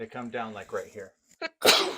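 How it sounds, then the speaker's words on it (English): Someone talks briefly, pauses with a sharp inhale, then lets out one loud, close sneeze at the end. "I sneeze."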